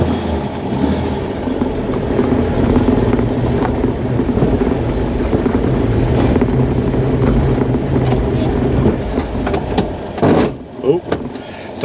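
A classic car that sat for years drives down the road, its steady engine and road rumble loud and close throughout, easing and sputtering near the end.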